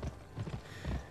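Horse hooves clip-clop in the video game Gun, a few quick muffled thuds in an uneven trotting rhythm, faint and close.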